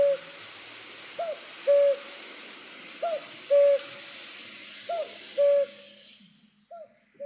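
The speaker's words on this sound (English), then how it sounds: "So I got this recording. So here we go, a cuckoo." A male cuckoo calls repeatedly, its clear two-note cries sounding at a regular spacing as it perches in a tree nearby, fairly loud over a faint hiss of background ambience, with no one talking.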